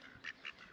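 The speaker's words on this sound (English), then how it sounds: "Quack, quack." Two short, nasal duck quacks close by in Glenorchy, New Zealand, evenly spaced over a faint outdoor background.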